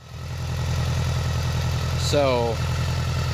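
A BMW K100 motorcycle engine idles after its fuel injectors were replaced. It gives a smooth, even, steady hum with a brief higher-pitched warble partway through.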